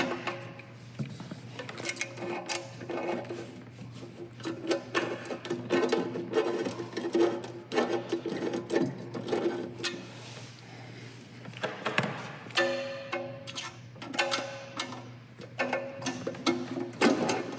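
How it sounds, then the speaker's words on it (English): A ratchet wrench tightens bolts while installing a CB6 conversion kit, giving repeated bursts of rapid mechanical clicking with short pauses between, close and moderately quiet, with no speech. "I'll switch over to the ratcheting so I can get those done"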